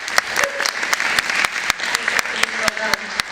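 An audience at a conference breakout session claps for a panel, with scattered distinct claps over a softer bed of applause and a voice talking over it.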